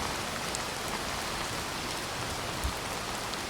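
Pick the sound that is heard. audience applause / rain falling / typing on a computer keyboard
rain falling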